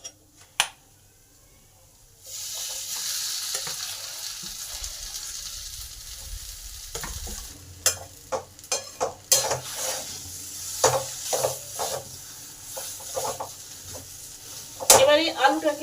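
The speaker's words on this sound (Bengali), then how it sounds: "এবার এগুলো ভালোভাবে কষে নেব।" Ground spices are stir-fried in a pan and then worked together with potatoes: a soft steady sizzle under repeated sharp scraping and clinking strokes of a spatula against the pan, close and fairly loud.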